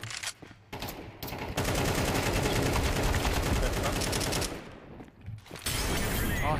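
Rapid AK rifle bursts in a competitive shooter game, loud and dense, firing in sustained volleys with brief gaps near the start and toward the end.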